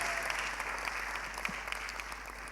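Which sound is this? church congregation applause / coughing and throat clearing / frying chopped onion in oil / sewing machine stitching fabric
church congregation applause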